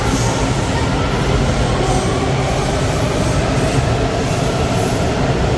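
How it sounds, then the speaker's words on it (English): Riding aboard a Washington DC Metro train: a loud, steady rumble of wheels on rails fills the car, with faint high squeals rising at moments and no talk. "what did you think of your first ever metro train ride?"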